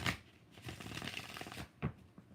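Tarot cards are shuffled close to the microphone in a soft, papery riffle lasting a couple of seconds, with a sharper flutter near the end and no talking.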